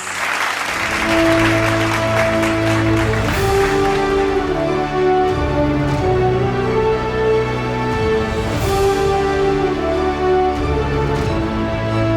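A crowd applauds a senior high school graduating class at a commencement ceremony, a steady wash of clapping that runs throughout beneath loud, sustained instrumental music.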